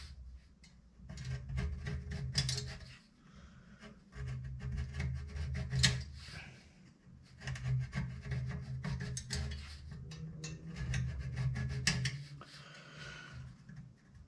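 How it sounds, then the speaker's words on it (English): Fins on a copper-core radiator for a classic Mini are straightened one by one, producing quiet scraping and rasping strokes in irregular bursts separated by brief pauses, close and faint. "I'm just straightening these fins out so the radiator will cool more efficiently."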